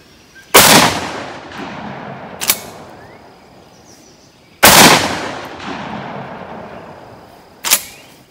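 A Citadel Warthog semi-auto shotgun fires at an outdoor range: two loud, sharp blasts about four seconds apart, each trailing off in echo and followed by a fainter mechanical clack of the action cycling.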